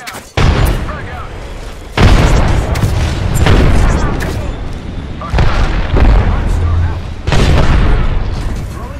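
Booming frag grenade blasts in the video game Apex Legends on PC, several loud, close explosions landing one after another with rumbling tails between them.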